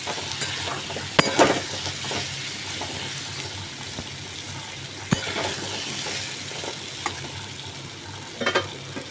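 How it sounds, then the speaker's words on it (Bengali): Vegetables fry in a hot pan for a quick khichuri of shyama rice, a steady sizzle broken by a few sharp scraping stirs and clinks of the spatula against the pan. "সবজিগুলো একটু ভেজে"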